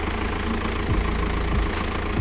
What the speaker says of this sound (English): It's got a big misfire.